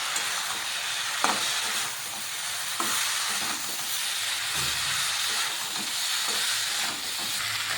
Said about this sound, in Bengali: ভেজে রাখা সব সবজি দিয়ে দিলাম ভালোভাবে মিশিয়ে নিই